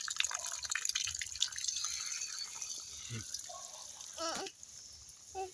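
Water dripping, a few distinct drops falling among constant hissy background noise, with no one talking.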